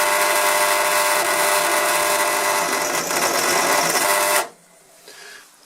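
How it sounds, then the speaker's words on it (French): Steady whirring drone of a drill starting a hole in a curved metal piece with a KS Tools HSS bit, close and continuous for about four seconds, then stopping abruptly, leaving near silence with a faint click. "D'une part, j'amorce le perçage."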